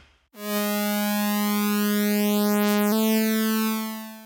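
A bright, buzzy two-oscillator lead tone from the Cherry Audio Quadra synthesizer plugin swells in and holds one steady note, shifting slightly in pitch partway through before fading a little at the end.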